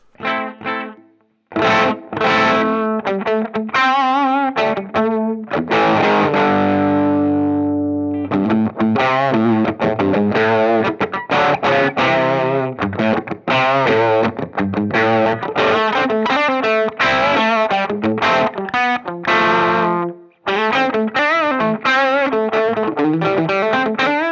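Distorted electric guitar chords played through a Dunwich Amps DA120 amplifier, loud and continuous, with sustained notes and short gaps between phrases.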